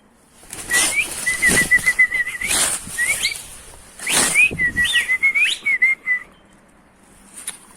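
Tumbler pigeons flap past in bursts while high whistling tones sound over the wingbeats, two busy passages separated by a short pause.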